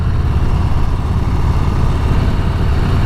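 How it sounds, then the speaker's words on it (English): A loud motorcycle engine runs close by with a deep, steady rumble throughout, and no voices. "So I revved it for them."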